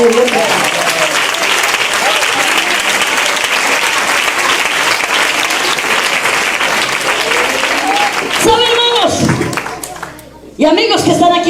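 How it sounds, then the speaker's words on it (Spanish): Loud, sustained applause from a church congregation fills most of the span, with cheering voices rising near the end before the clapping briefly drops away and then returns. "Denle un aplauso a la gloria de Dios"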